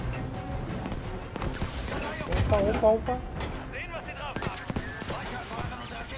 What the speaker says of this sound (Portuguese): Da onde é que tá vindo o tiro?